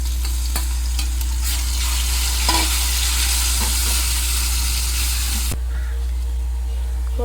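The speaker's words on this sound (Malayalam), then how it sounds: "വെളുത്തുള്ളി ഇഞ്ചി പേസ്റ്റും കൂടി ഒന്ന് ചേർത്തെടുക്കാം." Garlic ginger paste stir-fried in a hot pan gives a loud, continuous sizzle with faint stirring scrapes, dropping abruptly in intensity near the end.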